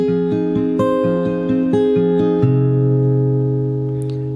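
An acoustic guitar picks out the next bar of a song fingerstyle, evenly plucked notes over a moving bass, then a held chord rings out and slowly decays, close and unaccompanied.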